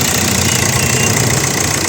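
A 2013 Hyundai Verna Fluidic diesel engine runs in a steady, loud, close clatter with a rough knocking idle throughout and no voices.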